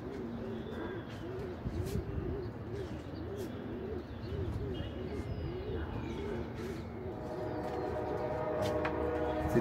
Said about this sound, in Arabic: الحمامة الصغيرة كلها هنا اهو، الحمامة الكبيرة كلها هنا اهو، كل الحمامة اهو.